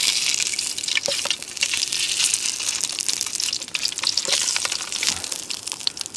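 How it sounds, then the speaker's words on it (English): Food fries in plenty of oil in a pan on a gas stove at a bushcraft camp, a close, steady crackling sizzle with scattered sharp pops throughout, no talking. "Probably a little bit too much oil in there like, but obviously because I'm on a gas kind of gas stove"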